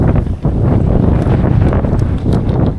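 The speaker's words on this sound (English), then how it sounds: "Man, it's so windy I can't even keep my fly box steady." Strong wind buffets the microphone beside a river during a fly fishing trip on the Rio Corcovado, a loud, constant gusty roar filling the short stretch with no talk.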